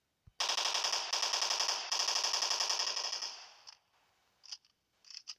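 Rapid automatic gunfire from a zombie defense video game blasts in long, loud, continuous bursts for about three seconds, followed by a few shorter, quieter shots.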